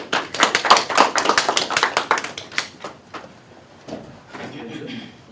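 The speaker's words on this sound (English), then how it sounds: "I'd like to welcome Prakash, with of course a round of applause." An audience at an evening meetup gives a round of applause welcoming a speaker: dense, close clapping for about three seconds, then thinning to a few scattered claps.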